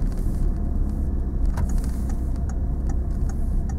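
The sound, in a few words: car driving slowly during a driving lesson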